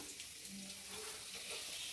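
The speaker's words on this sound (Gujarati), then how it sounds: "તેલ ગરમ થઈ ગયું છે તો આપણે તીખા, લવિંગ, બાદિયા, તજ એ બધું આપણે નાખી દઈશું તેલમાં" Whole spices (black pepper, cloves, star anise and cinnamon) dropped into hot oil give a steady, fairly faint sizzling hiss with no voices over it.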